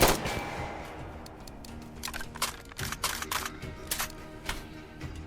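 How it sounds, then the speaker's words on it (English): Three-round burst gunfire from an M16-style rifle in the VR shooter Tactical Assault VR, with several sharp, rapid bursts in quick succession, fairly close and loud, without talk. "And this is 3-round burst."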